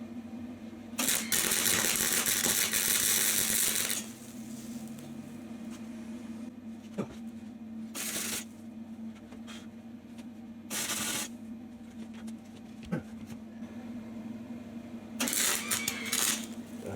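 Tack welding on metal in a workshop: several separate crackling, sizzling bursts, the first lasting about three seconds and later ones briefer, loud and close, with quieter hum and clatter in the gaps.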